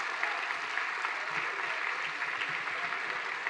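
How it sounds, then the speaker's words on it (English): An audience at a school academic awards ceremony applauds the award finalists, a dense, steady patter of clapping from a moderately distant crowd that runs evenly for a few seconds. "Let's applaud all the way."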